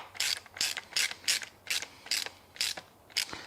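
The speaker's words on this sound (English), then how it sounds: "We get our two nuts and put them on, and we'll start tightening things up." A ratchet wrench tightens the nuts on a chainsaw, giving eight evenly spaced, crisp clicking bursts at a steady rhythm, close and fairly quiet, with no talking.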